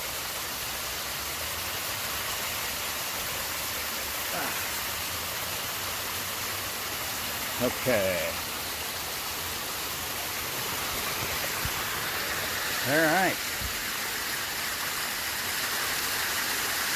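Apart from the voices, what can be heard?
waterfall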